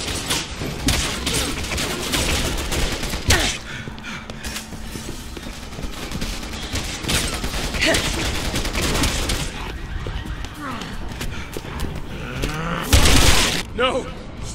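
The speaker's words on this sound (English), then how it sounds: "Keep shooting till you run out!" Sustained gunfire in the Resident Evil 6 PC game, Leon and Ada's chapter, as dense bursts of rapid shots run throughout with a heavier blast near the end, mixed with a voice.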